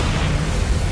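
A Bombarda blast spell goes off in a Hogwarts Legacy fight: one loud, close, deep booming burst that fills the whole moment with rumbling low-end noise.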